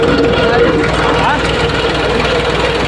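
A tractor engine runs steadily close by with a continuous loud rumble, while a voice talks over it.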